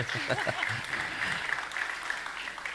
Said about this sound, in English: I think big applause for you and Martin.